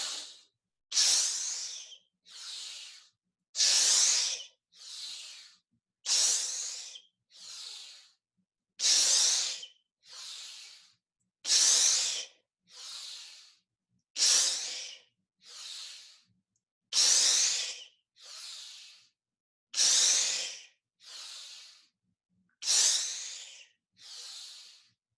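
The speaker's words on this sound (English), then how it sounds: "And now all together, pulling that switch, we exhale." Guided breathwork with about eighteen strong breaths through the nose and mouth, alternating longer and shorter hissing inhales and exhales in a steady rhythm with short silent gaps between them, close and clear with no talk.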